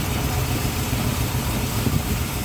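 A 1947 Cadillac four-door sedan idles just after a cold start in near-zero temperatures, its carburetor unrebuilt for 50 years, giving a steady, even engine rumble with no voices.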